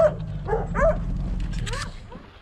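Hunting hounds near a truck before a deer hunt in the North Carolina sandhills give short yips, whimpers and excited barks, close and overlapping, with people talking underneath.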